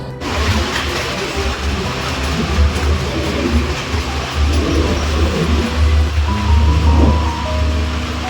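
The Garib Rath Express, running from Agartala to Kolkata, rumbles along the tracks with a loud, continuous roar and rattle of the carriages and faint rhythmic clatter, heard from inside the train.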